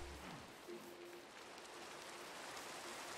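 Steady, soft hiss of rainfall in the video game Minecraft, a faint even wash of drops with no voices.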